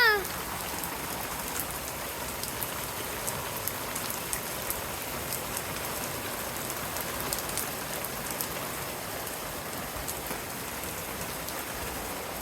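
Heavy rain pours steadily during a violent thunderstorm with strong wind, a dense hiss of drops drumming on surfaces at a constant level throughout, with no voices heard.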